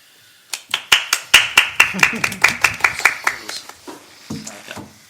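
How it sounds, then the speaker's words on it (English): A brief round of clapping from a small group at a school board meeting, sharp claps building to a steady patter, then thinning to a few scattered claps near the end. "I think we all deserve a round of applause for everybody"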